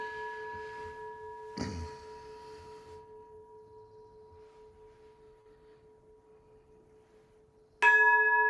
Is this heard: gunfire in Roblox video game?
no